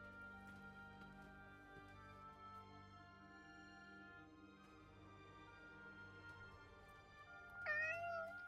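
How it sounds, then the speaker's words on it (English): A cat in the video game Forspoken gives a short, clear meow near the end, heard over a soft, sustained musical score. "Hey, that cat."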